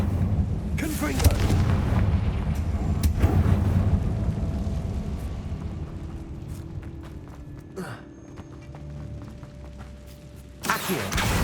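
A Confringo fire spell blasting repeatedly in Hogwarts Legacy, with deep booming impacts and rumbling under constant game ambience, one sharp burst standing out near the end.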